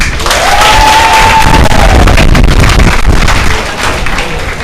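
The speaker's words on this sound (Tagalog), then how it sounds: "Pumalakpak nga po ang tunay na gising." A congregation claps at a church anniversary service, a dense, loud wash of hands sustained throughout with a brief whistling tone drifting over it early on.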